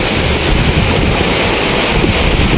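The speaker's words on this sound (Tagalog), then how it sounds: "Grabe buhos may kasamang pang hangin." A heavy downpour lashes a roadside street with strong gusting wind, a loud, unbroken roar of rain and wind buffeting close by throughout.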